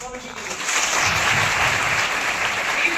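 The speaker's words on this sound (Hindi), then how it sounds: "मैं चाहूंगा एक बार जोरदार तालियां" An audience breaks into loud applause, a dense, sustained burst of clapping that swells early and holds steady, close and full.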